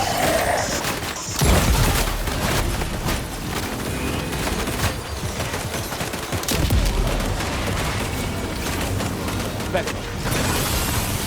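Sustained bursts of gunfire and fusillades in the video game Death Stranding 2: On the Beach, loud and continuous with heavy booming impacts and rattling volleys, under a voice speaking.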